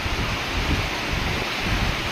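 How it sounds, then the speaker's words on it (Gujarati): Strong wind in a heavy rainstorm, strong enough to threaten the trees, roars as a continuous broadband rush with low rumbling gusts, steady and close, with no voices. "જો બધા ઝાડ પડી જાય એવું પવન આવ્યું છે।"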